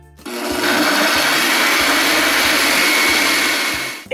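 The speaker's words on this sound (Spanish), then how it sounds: "Ahora sí, vamos a licuar." A kitchen blender whirs loudly and steadily for about four seconds as it purées the creamy sauce for Peruvian papa a la huancaína, starting abruptly and cutting off at the end.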